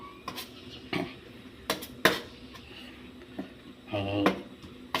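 Stir-frying in a pan in a home kitchen: irregular scrapes and clinks of a utensil against the pan, with a short sizzling burst near the end, moderately close, with a voice talking at times.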